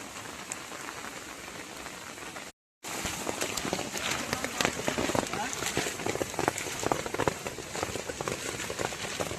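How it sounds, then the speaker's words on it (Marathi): Heavy rain pours down in a dense, continuous roar of drops pattering on surfaces, briefly cut by a moment of silence early on. "जोरदार पाऊस चालू झाला"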